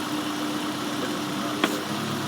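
A steady, low car engine idle, normal during a vacuum leak check at the throttle body, hums evenly throughout, with a faint hiss and one brief click near the end.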